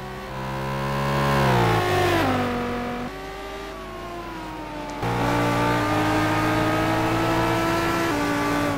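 Race cars in a racing sim video game, engines dropping in pitch under braking and then revving back up as they accelerate, loud and close, a continuous engine drone with no voices.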